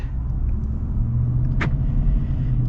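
A 2024 Ford F-150 Lariat's 5.0 V8 idles from inside the cab, a steady deep rumble with a faint brief click partway through.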